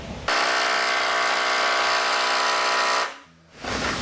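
A power tool whines loudly and steadily for about three seconds while removing rusty bolts from an old truck, then drops out briefly before starting up again.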